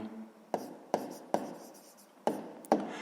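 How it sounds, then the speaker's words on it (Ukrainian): A pen writes out the answer to a sixth-grade math exercise on paper, with five sharp, separate strokes spread over about three seconds, close and fairly loud against a quiet room. "Гаразд, записуємо відповідь."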